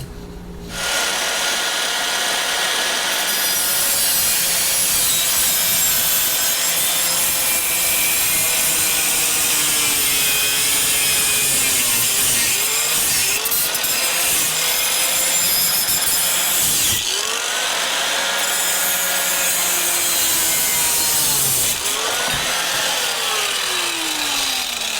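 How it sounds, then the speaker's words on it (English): An angle grinder with a cutoff wheel cuts during work on a zero-turn mower deck, running loud and continuous for over twenty seconds, with its whine dipping and rising as the wheel bites and briefly eases off. "I'm thinking with an angle grinder, a cutoff wheel"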